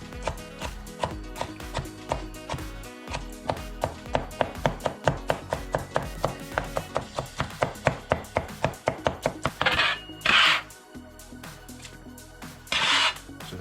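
Knife chopping dill pickle spears on a cutting board for potato salad, a steady accelerating run of sharp close taps, then a few louder scraping sweeps near the end, with no talking.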